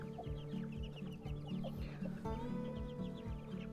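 Indio Gigante and Black Australorp chickens on a breeding farm cluck steadily, several birds close by overlapping in a continuous, busy chorus.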